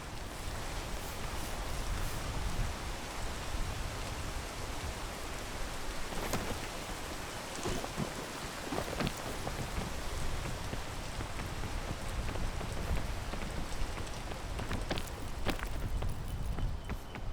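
Steady rain falls in a video game world, a dense continuous hiss with scattered drip and patter accents, constant and moderately loud, alongside faint footstep-like taps and no talking.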